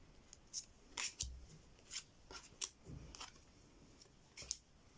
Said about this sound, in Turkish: Şöyle dizeyim arkadaşlar kartları.